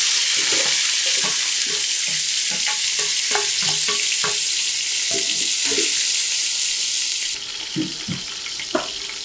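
Onions frying in hot oil with fennel seeds for a kurma, a steady loud sizzle with bursts of crackle and spoon stirring close by, the hiss easing slightly near the end.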